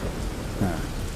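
Heavy pouring rain with a low thunder rumble, a dense steady roar of falling water with a brief deeper swell near the middle.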